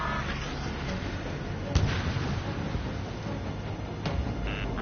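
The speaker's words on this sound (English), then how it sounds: "The harbor is under heavy fire!" Distant artillery and explosions pounding a harbor under attack in Ace Combat 7, a steady low rumble of battle noise with a couple of sharper bursts standing out.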